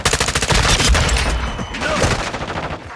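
Rapid gunfire from Call of Duty: Modern Warfare II, loud and close, with dense bursts and booming low thuds running through the whole stretch as a player speaks briefly over the shooting.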